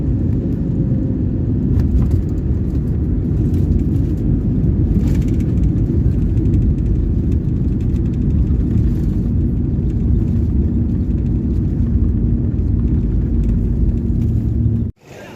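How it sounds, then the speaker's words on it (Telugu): IndiGo passenger plane coming in to land, a loud continuous low rumble and roar of engines and airflow heard from inside the cabin, cutting off abruptly at the end. "కొంతసేపట్లో ల్యాండ్ అయితే అవుతుందన్నమాట ఈ ఫ్లైట్"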